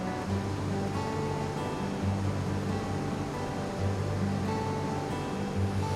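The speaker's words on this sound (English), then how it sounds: "Burney Falls is really 2 waterfalls in one." Steady, dense roar of Burney Falls, a waterfall fed by Burney Creek, pouring continuously at close range with no voices over it.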